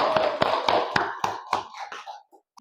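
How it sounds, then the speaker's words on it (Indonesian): Classroom of class 5 children clapping for the winning quiz group, a close series of sharp, loosely rhythmic claps that thin out and stop within a few seconds. "Tepuk tangan."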